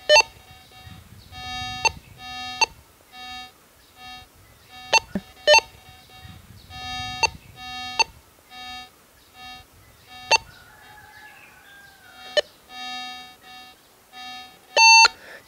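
Metal detector beeping as a small copper coin is passed in front of it over a tray of sand and gravel, giving a string of sharp, repeated electronic beeps in quick bursts with brief pauses, close and clear with no talk.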